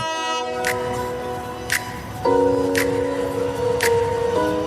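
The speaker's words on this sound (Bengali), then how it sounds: "অবশেষে অপেক্ষার শেষ প্রহরে দেখা মিলল লোকাল ট্রেনটির" A local train's horn blasts in long steady tones with repeated rhythmic clanks, the horn shifting pitch partway through as the train pulls into Joydebpur Junction, Bangladesh, close and loud.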